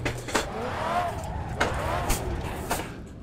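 A racing car in Assetto Corsa loses traction under hard throttle, its engine whine rising and falling as the tyres spin and the car spins out, with brief tyre squeal and several sharp bursts over a steady engine drone.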